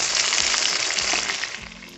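Tilapia pieces fry in hot oil in a village kitchen, a loud, steady crackling sizzle with bubbling, close up and continuous.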